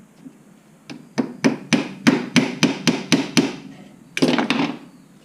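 An 18 gauge brad nailer fires brads into a wooden beehive brood frame, about nine sharp, evenly spaced pneumatic snaps followed by a quick cluster of closer shots, loud and close.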